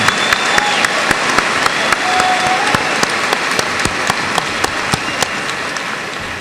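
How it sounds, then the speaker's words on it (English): Hearty applause fills the room at a 2002 high school graduation ceremony, with a crowd clapping steadily and a few sharp, individual claps standing out near the front. "Let's give them a big round of applause."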